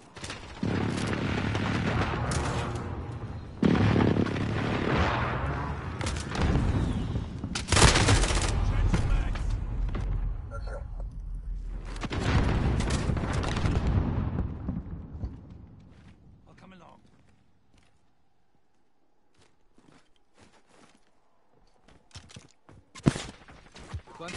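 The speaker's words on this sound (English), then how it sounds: "Precision airstrike, take cover!" Airstrike explosions and gunfire in a first-person shooter: loud bursts of gunfire and heavy blasts, with voice callouts over the first half, then a fade to near silence broken by a few sharp late shots.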